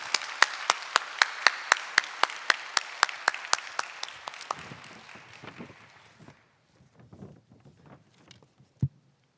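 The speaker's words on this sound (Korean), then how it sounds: "우리 간증하실 때 우리 박수로 맞이해 주시길 바랍니다" Korean church congregation clapping to welcome a deacon coming up to give a testimony at a Thanksgiving Sunday service, beginning as strong rhythmic unison claps, then breaking into scattered claps and fading to near silence with one last thump.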